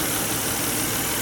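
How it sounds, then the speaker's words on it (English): A 2003 Volvo XC90 engine idling roughly with a bad motor, a close, steady, loud mechanical hum and rumble that runs without pause, no voices over it. "Definitely idling a little off,"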